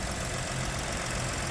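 A 2017 Ford Explorer Police Utility engine idling with the hood open, a steady low rumble with a faint ticking texture, close and continuous, no talk.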